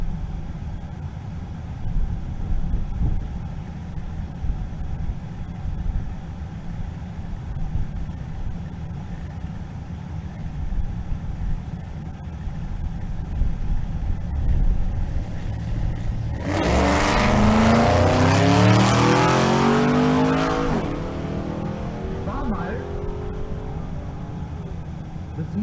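A Camaro drag racing car makes a pass at a drag strip, first as a low idle and rumble, then as a loud, bright surge of revving engine with rising gear sweeps that fades after a few seconds.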